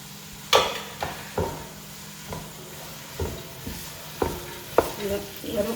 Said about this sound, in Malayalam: നമ്മൾ ഹൈ ഫ്ലെയിമിലാട്ട് ഇട്ടിട്ടുള്ളത്. അതുകൊണ്ട് ജസ്റ്റ് ഒന്ന് ഇളക്കി കൊടുത്തോണ്ട് കുഴപ്പമില്ല.